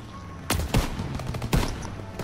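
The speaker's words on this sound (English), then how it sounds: "There's the AA gun!" Bursts of anti-aircraft gunfire in the Call of Duty WW2 mission Cobra, with two sharp loud volleys about a second apart over a steady battle rumble.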